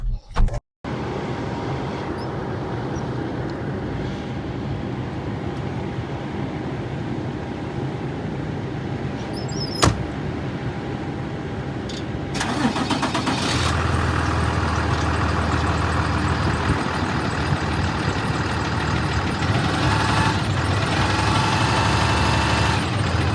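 The diesel engine of a 2016 Peterbilt 337 utility crane truck cranks and starts, then settles into a steady idle with a constant low rumble that grows slightly louder and fuller.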